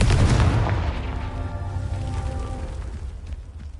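A Confringo spell blast in the game Hogwarts Legacy lands as a loud, close booming explosion that rolls into a long rumbling, ringing decay, with no talk over it.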